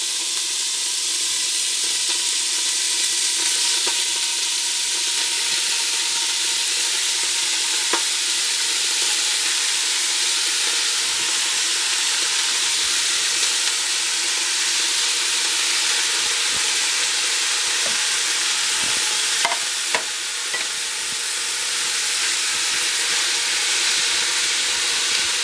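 Two pounds of ground chuck sizzle and hiss steadily in a pot over medium heat, with steam rising and a spoon now and then scraping and stirring, a loud, continuous frying sound with no voices.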